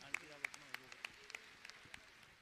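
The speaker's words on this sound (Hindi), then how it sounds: "जोरदार तालियों से" An audience at a Bhavana Yoga gathering in Indore claps in a sparse, fairly regular rhythm of sharp handclaps, moderately close, with a few voices murmuring beneath.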